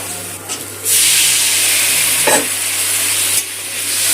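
Masala sizzles and hisses in a hot pan over low gas as it is stir-fried for an egg omelette curry, a loud steady frying roar with a brief spatula scrape partway through.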